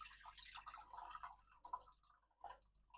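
Buttermilk pours from a jar through a sieve, with faint soft dripping and trickling in short irregular bursts, close and quiet.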